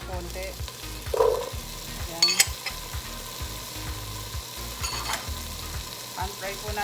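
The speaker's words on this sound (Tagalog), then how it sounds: "Tapos papan-fry ko lang po ng konti itong ating carrots at saka patatas para po mag-brown lang siya ng konti." Carrots and potatoes browning in a frying pan: a steady low sizzle with occasional scrapes and knocks of a spatula against the pan, close by and with no talking.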